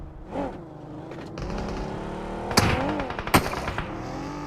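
Gunfire in a battle-royale scrim match, heard as a few sharp shots and short bursts over a roaring vehicle engine that rises and falls.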